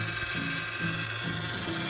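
Car power steering noise, a continuous loud mechanical whine and grinding hum with faint periodic pulsing throughout.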